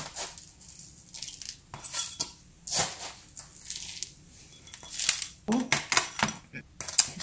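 Potting soil mixed with grit is poured and scooped into a succulent pot lined with mesh and coarse gravel, ready for a Haworthia cooperi. Scattered gritty rustles and small clinks come in uneven bursts, close by.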